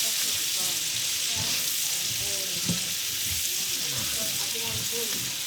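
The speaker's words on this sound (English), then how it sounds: "we cook that on a medium heat for roughly around 10 minutes, just stirring occasionally" Potatoes with skins left on frying in a pan over medium heat, a steady dense sizzle and hiss throughout with occasional soft stirring scrapes.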